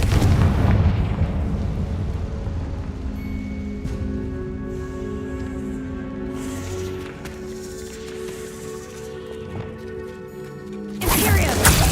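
Confringo blasting spells boom in Hogwarts Legacy, a heavy rumbling explosion at the start, sustained tonal magical effects in between, then another loud burst at the end.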